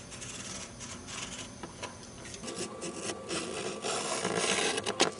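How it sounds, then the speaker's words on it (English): Lid of a pinhole camera box being cut out by hand, a close, steady run of scraping and rasping strokes that grows busier and louder toward the end, with no talking. "you can now begin to cut the lid out"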